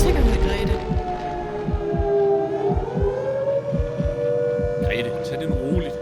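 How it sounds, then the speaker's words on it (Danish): Air raid sirens wail at a steady, sustained pitch over a low hum and a rhythmic thumping pulse like a heartbeat, with a voice speaking over the din. "Sirenerne. Jeg kan høre sirenerne."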